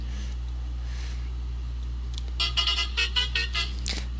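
A TNSTC bus horn in Euro Truck Simulator 2 on a Kovai to Ooty run, sounding as a series of short repeated honks in the second half, after a quieter stretch of steady engine hum.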